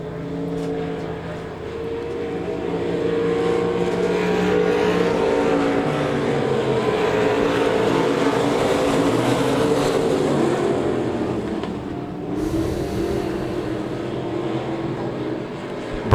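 Race cars thunder down the back straightaway into turn four at Devil's Bowl Speedway, a dense, loud engine roar that swells and holds for many seconds before easing, with crowd and track ambience mixed in.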